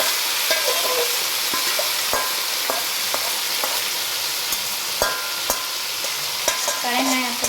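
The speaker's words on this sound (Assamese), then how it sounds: "এতিয়া মাংসখিনি ভাজিব আৰু মাংসখিনি বনাই ল'ব।" Local chicken meat stir-frying in a hot kadai: a loud, continuous sizzle with repeated sharp scrapes and knocks of the stirring spoon against the metal, no voices.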